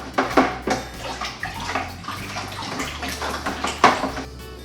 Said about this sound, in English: now I am going to stir this up really nicely